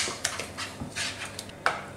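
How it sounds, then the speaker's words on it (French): A utensil stirs a quiche filling with grated emmental in a bowl, making sharp, irregular clinks and scrapes against the dish, a handful of distinct taps spaced apart over a soft background. "Et on remélange à nouveau."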